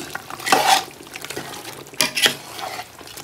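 Chicken biryani with a handful of chopped coriander being mixed in a pot, two distinct scraping stirs of a spoon against metal over a light background sizzle, close and fairly loud, no voices.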